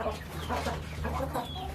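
Breeding roosters and hens cluck over a steady low farm hum, several overlapping birds at moderate distance in a continuous barnyard chatter.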